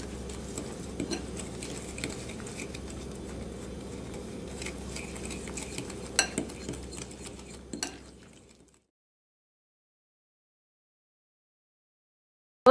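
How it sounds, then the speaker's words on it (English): Brown sugar, vanilla and an egg are stirred together in a bowl, giving soft scraping and irregular utensil taps against the bowl that run for about eight seconds before stopping into silence. "So we're gonna mix the wet ingredients."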